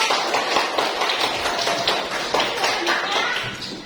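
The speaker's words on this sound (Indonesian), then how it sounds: "Tepuk tangan dulu." A classroom of students claps together after a group presentation, a dense patter of many hands at close range that eases slightly toward the end, with some voices mixed in.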